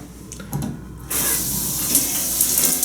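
A hotel bathroom shower sprays water steadily and close by, a hiss that bursts on suddenly after a second of quieter room sound and then keeps running.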